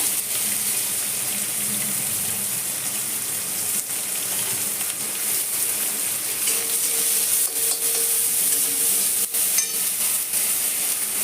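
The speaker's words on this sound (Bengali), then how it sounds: "এবার আমি তেলের মধ্যেই দিয়ে দেবো কালো জিরে ফোড়ন, আর একটুও তেল আমি এর মধ্যে অ্যাড করব না। দিয়ে দেবো পেঁয়াজ" Sliced onion frying in oil with black cumin (kalonji) seeds gives a loud, continuous, close sizzle that stays steady throughout, with no talking.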